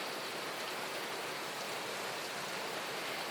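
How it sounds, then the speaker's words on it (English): Steady rain falling outside on a Florida morning, a dense, even wash of drops that stays constant and fairly loud throughout, with no voices. "it has been raining pretty much the entire time."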